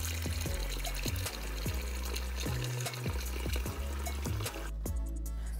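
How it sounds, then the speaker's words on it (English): Short ribs are rinsed under running tap water, a steady close splash and trickle with repeated thumps of meat being turned and handled under the stream. "Here I'm giving my short ribs a quick rinse to make sure they're nice and clean"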